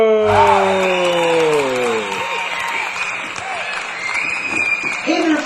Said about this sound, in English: Please give a round of applause for Chef Adam Cantrell.